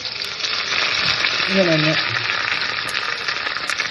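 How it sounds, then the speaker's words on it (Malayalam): Curry leaves fry in coconut oil for a tomato chicken roast, giving a loud, steady, close sizzle throughout, with a voice speaking briefly in the middle. "കറിവേപ്പില ഇങ്ങനെ വറുത്തിടാം നമുക്ക്"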